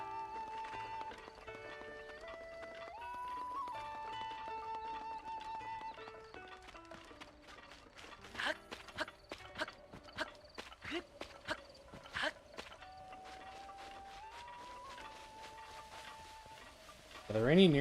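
Horse hooves clip-clop and a horse gives a short whinny in The Legend of Zelda: Breath of the Wild on the Nintendo Switch, layered under the game's soft melodic music with someone talking at times.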